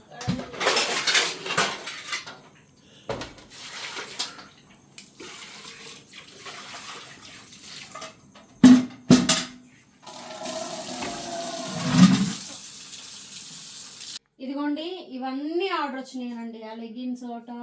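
Dishes clatter and scrape with bursts of running water from a tap, then someone speaks over the washing near the end.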